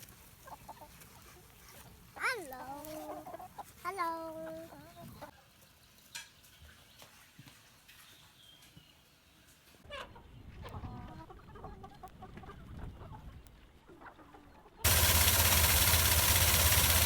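Pastured hens cluck in a few rising, squawky calls near the start, followed by quieter rustling outdoor background and a sudden loud noisy burst at the end.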